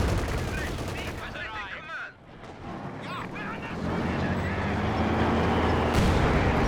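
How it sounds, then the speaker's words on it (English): Heavy mortar fire in a strategy video game: dense booming shots and gunfire over a continuous battle din, loud and layered, with two distinct mortar impacts standing out. "Man, the heavy mortar does look quite toothless. There's like 2 shots there."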